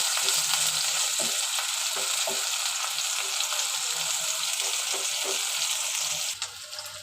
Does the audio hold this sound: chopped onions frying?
yes